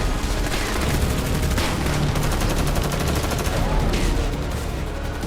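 Combat fire in the war in Ukraine, a dense rapid burst of gunfire and explosions crackling in fast repeated volleys, loud and continuous over a rumbling background.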